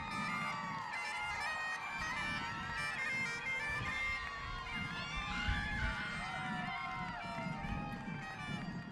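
Spectators at an International Pancake Day race cheer and shout steadily for women runners, a dense, sustained crowd roar with higher voices and an announcer talking.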